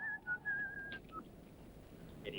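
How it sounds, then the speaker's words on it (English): A man whistles a thin, steady tune in a tense Western standoff, a few sustained notes and short slides over a dim, noisy background, ending with a brief faint burst. "Stop that whistling."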